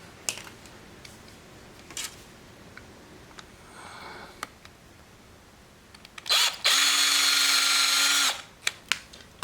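A small power drill bores into a plastic toy clone trooper helmet in one sustained loud burst of about two seconds near the end, with quieter faint handling clicks beforehand.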